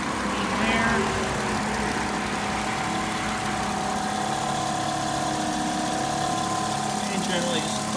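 A 2004 VW Touareg 4WD engine running at a steady idle under the open hood, a constant hum and vibration throughout, close by, with people talking over it.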